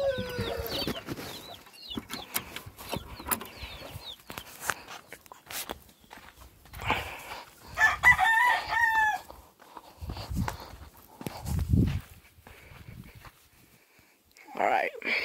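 Yellow-legged hatch gamefowl rooster crows loudly and nearby in a breeding pen while chickens cluck, mixed with footsteps and some handling noise.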